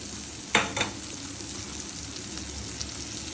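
Onion and capsicum fry in a pan on low gas for pasta, a steady close sizzle with a quick stirring scrape early on, no voices.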